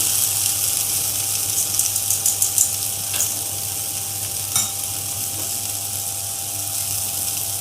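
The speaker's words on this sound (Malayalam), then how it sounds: "ഇനി നമുക്ക് ഈ അവൽ ഇതിനകത്തേക്ക് ഇട്ട് കൊടുക്കാം." Flattened rice (poha) being stirred in a hot pan, a steady close sizzle and frying hiss with a few brief scraping clatters of the spoon.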